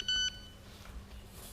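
A phone gives one short, clear electronic beep right at the start, then fades into quiet room tone.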